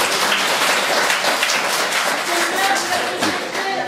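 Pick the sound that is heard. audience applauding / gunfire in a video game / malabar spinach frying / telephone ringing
audience applauding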